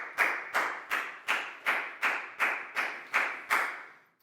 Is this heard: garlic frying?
no